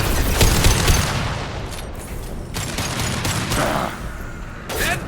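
Gunfire in Mass Effect 2 Remastered, a dense fusillade of shots and booms in a firefight, loud and continuous with bursts clustered at the start and end.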